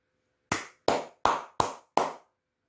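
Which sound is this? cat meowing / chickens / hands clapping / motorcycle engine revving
hands clapping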